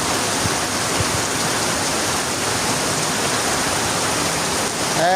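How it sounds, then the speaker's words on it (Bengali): Heavy rain with wind on an empty street pours as a dense, constant loud roar, with gusts rising near the end and no voices. "একদম কড়া বৃষ্টি, কড়া।"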